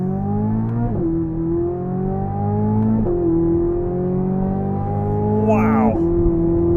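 A 2023 Corvette Z06 in track mode accelerating hard up a highway on-ramp, its engine climbing through several quick upshifts, loud and close from inside the car, with a brief whoosh near the end.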